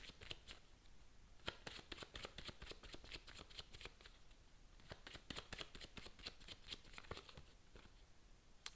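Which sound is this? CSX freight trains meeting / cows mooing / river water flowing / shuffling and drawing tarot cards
shuffling and drawing tarot cards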